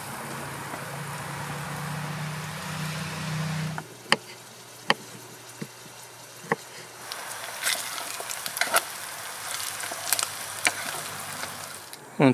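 A pot of soup or stew bubbles and sizzles on a camping stove in a forest, with a steady low hiss at first, then scattered sharp clicks and clatters of stirring or utensils nearby.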